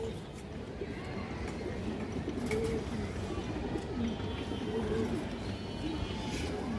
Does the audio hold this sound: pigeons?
yes